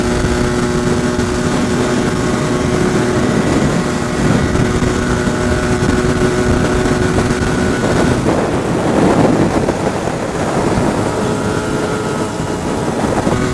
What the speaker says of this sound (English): A lot of wind about as well today.